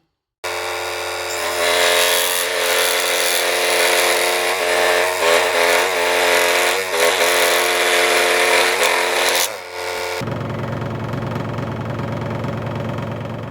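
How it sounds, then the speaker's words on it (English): A homemade disc sander grinds a block of canary wood with a loud, steady, rough whir that lasts several seconds, then its tone changes near the end. No one speaks. "To take our block that we've just made, and I'm going to apply it to my disc sander."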